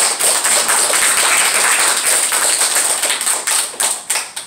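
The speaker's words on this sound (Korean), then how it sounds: "저희가 격려하고 또 존경하는 마음으로 한번 일어나시면 저희가 박수 한번 하겠습니다." A church congregation claps steadily for an alumni association president, dense close handclaps lasting several seconds and tapering into a few scattered claps at the end.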